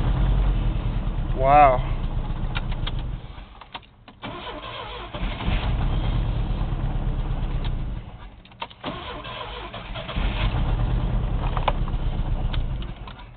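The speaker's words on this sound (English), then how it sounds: "That starter's cranking over nice and heavy now." A truck's starter cranks heavily and the engine catches, then settles into a steady idle with brief dips in between; a voice briefly exclaims over it.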